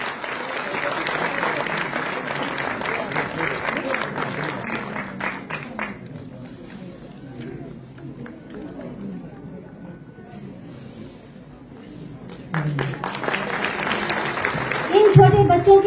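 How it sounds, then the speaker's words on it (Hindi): Audience applauding children on stage at a cultural festival inauguration, a steady crowd clap that fades to murmur midway, then swells again, with someone speaking over it. "इन छोटे बच्चों के लिए जोरदार तालियां तो बनती है।"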